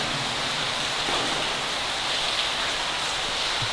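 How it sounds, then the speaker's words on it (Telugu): Water drips and leaks from above inside an abandoned tunnel, a constant dense patter and hiss with a few slightly louder drops scattered through it. "ఇక్కడ ఈ ఏరియాలో వాటర్ బాగా పడుతున్నాయి ఇక్కడ పైన మీద కూడా చెట్ల లీక్ అవుతుంది మొత్తం"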